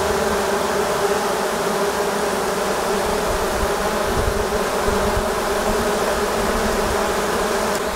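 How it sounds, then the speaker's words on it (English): Honey bees buzz and scent around an opened hive as brood boxes are reversed, a dense, loud, continuous swarm hum that stays steady throughout, close by, with no voices. "many of the bees that were in that box began scenting just like they're doing right here"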